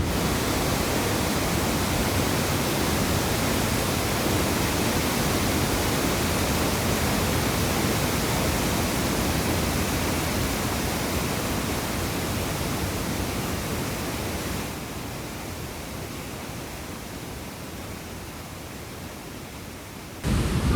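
Waterfalls pour into a gorge in the Scottish Highlands along the NC500 route, a loud continuous roar of falling water that softens slightly near the end.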